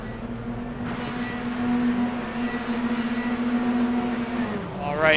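F4 race cars at Laguna Seca in a racing game hum with a steady droning engine tone as the field gets under way, engines swelling slightly toward the end beneath a commentator's voice.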